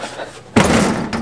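A car door on a rat rod slams once with a sharp, heavy thud, its ring trailing off and followed by a fainter second knock, after a quiet start.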